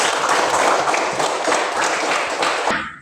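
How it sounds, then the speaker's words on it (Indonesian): A classroom of students applauds an answer, dense continuous clapping filling the room for nearly three seconds before breaking off sharply at the end. "Tepuk tangan untuk jawabannya."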